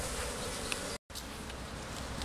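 Honeybees at an open hive early in the March season, a dense close buzzing hum that drones steadily, broken by a brief cut to silence before the swarm sound resumes.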